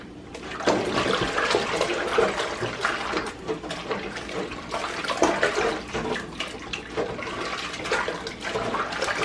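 Liquid poured down a kitchen sink with a fat and trash bin, rushing and splashing steadily for several seconds as running water gurgles through the drain.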